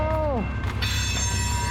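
A train rolls past on CN rail tracks near North Bend, British Columbia, loud and close, with a sustained rumble and bright whistling, squealing wheel tones, including one falling squeal early on.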